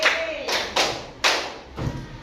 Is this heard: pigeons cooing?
no